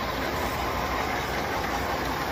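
3D printed model train running at half power and pulling seven cars, heard as a steady close-up whirring and rolling rumble with a constant level throughout.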